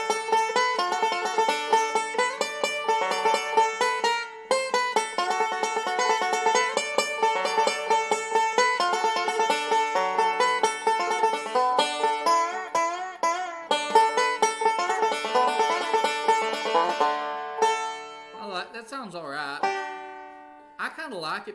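A picked stringed instrument with its fifth string tuned to A plays a lively run of bright, closely spaced notes for about twenty seconds, loud and close with no talking, the phrases thinning out near the end.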